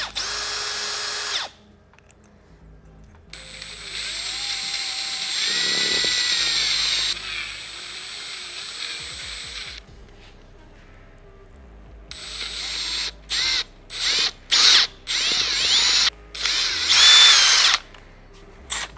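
Power drill boring a 1/4 inch hole through the seat of a Rascal GT drag kart build, with long loud whining bursts, a pause, then a run of short stop-start trigger pulses near the mic.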